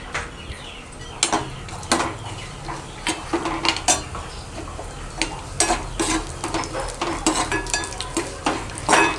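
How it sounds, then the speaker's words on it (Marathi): Cashews, almonds and pistachios stirred into melted ghee in a pan, with a steady scraping of a spoon against metal, a soft sizzle underneath and repeated clinks throughout. "आता आपण याच्यात ड्रायफ्रूट टाकून देऊ"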